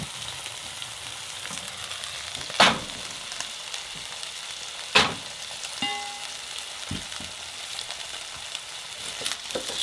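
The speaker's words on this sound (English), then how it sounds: "so we're gonna get this sauteing up" Sockeye salmon sautes in olive oil with a continuous gentle sizzle, broken by two sharp metallic clanks and a few lighter knocks from cookware nearby; no one speaks.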